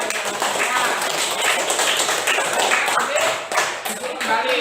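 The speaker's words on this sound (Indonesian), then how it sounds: "sekarang kita berikan tepuk tangan kepada kelompok 5 yang telah bertanya" A classroom of students applauds group 5 for asking a question, with steady, fairly close clapping and some taps and thumps mixed in.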